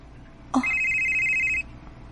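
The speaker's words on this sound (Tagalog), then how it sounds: "si Raver, nanawag" A telephone rings once with an incoming call, a bright electronic tone lasting about a second, loud and close against a quiet room.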